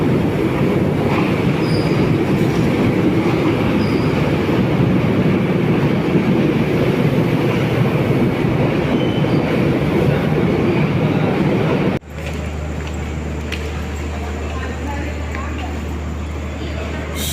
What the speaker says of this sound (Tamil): ஃபைனலி நம்ம இன்றைக்கி திருகோணமலைக்கு ட்ராவல் பண்ண போகிற நைட் மெயில் எக்ஸ்பிரஸ் ட்ரெயின் வந்தாச்சு